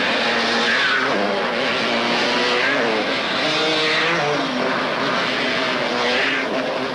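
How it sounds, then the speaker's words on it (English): Motocross motorcycles racing in a Grand Prix, their engines forming a loud, continuous roar with shifting pitch as bikes battle closely for the lead, with no voices heard. "Into the lead blasts Lackey with Mikkola in close pursuit."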